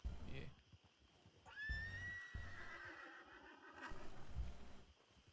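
A horse in the WildRP video game gives one clear, close whinny that rises sharply and trails off, with hoofbeats and a person talking before and after.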